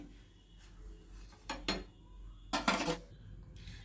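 Butter garlic naan set down on a plate with two distinct bursts of clattering, a shorter one and then a longer, louder clink and rattle of dishware, between quiet pauses.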